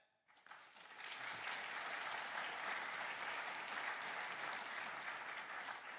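Audience applause at a CES keynote, swelling quickly from near silence into a dense, steady wash of clapping that carries on evenly for several seconds.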